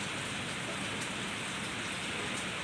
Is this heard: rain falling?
yes